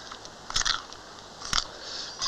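A person chewing food, with a few close, wet crunching bites at irregular moments over a steady background hiss.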